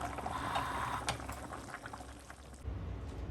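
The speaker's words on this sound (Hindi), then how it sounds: "अब हम इसका पानी ड्रेन करते हैं" Hot water draining off boiled spaghetti in a kitchen, a steady close pouring and splashing rush that thins out and then gives way to a low rumble.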